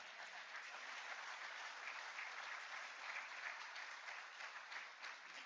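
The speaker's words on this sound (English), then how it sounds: "Let's applaud," Steady, dense applause from a large audience at a sports awards celebration, a continuous even wash of many hands clapping heard from some distance, with no talk over it.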